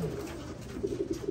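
Racing pigeons in a loft give soft, low repeated coos, a brief close burst near the end over a quiet room background.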